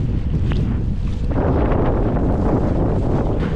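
Strong wind roars steadily across the microphone on a boat heading straight into a headwind, with a constant low rumble of moving water beneath, no voices.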